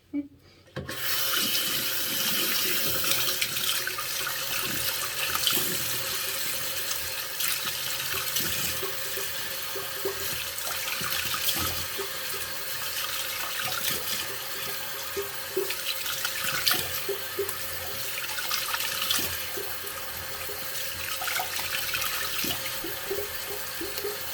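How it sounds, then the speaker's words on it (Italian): Lukewarm tap water running steadily into a sink while a face is rinsed, a continuous splashing hiss with small rubbing sounds, close and fairly even for over twenty seconds. "vado a sciacquarmi con l'acqua tiepida"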